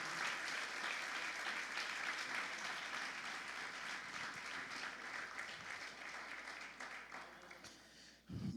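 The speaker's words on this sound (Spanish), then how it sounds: "Vamos a recibirlo con un aplauso." A church congregation applauds steadily and loudly for several seconds, a dense wash of clapping that holds strong throughout before easing slightly near the end.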